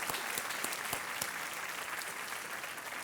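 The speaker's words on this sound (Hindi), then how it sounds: "तालियों के साथ एक बार फिर हम इनको धन्यवाद देते हैं।" A studio audience claps steadily and fairly loud on a TV quiz show set, the applause holding even throughout with no voices over it.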